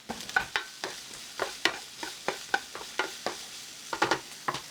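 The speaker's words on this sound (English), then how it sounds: "I don't want to brown them, I just want to sweat them." Vegetables sweat in a pan for a keto goulash, a spoon stirring in a steady rhythm of about a dozen close scraping strokes over a soft sizzle, with no talking.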